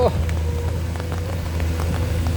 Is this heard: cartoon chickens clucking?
no